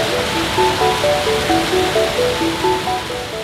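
The Pagsanghan Falls waterfall in Laguna rushes as a steady, loud wash of falling water, with a gentle melody playing over it.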